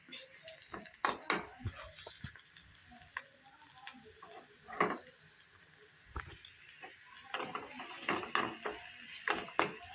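A quiet pan fry of egg and peas sizzles while a spoon stirs, with repeated scraping strokes and light clicks against the pan over a soft steady hiss.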